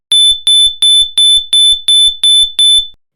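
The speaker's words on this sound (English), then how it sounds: "another modern life-saving device that did not exist in the 19th century: smoke alarms" A smoke alarm beeps loudly and shrilly, eight evenly spaced piercing tones in a steady rhythm, then falls silent.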